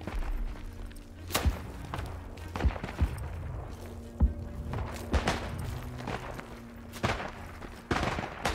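Gunfire rings out in the WWI shooter game Isonzo: scattered shots and heavy thumps at irregular intervals, some near and sharp, others more distant, over a low battlefield rumble.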